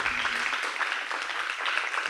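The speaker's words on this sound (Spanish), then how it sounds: "Un aplauso para ella." Audience applause at a film screening event, a steady dense wash of clapping from a crowd, moderately loud and continuous for the whole stretch with no voices over it.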